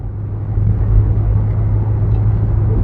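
Inside a 1979 Chrysler New Yorker 5th Avenue on the move, a steady low road rumble and engine drone fill the cabin, smooth and even, with no talking.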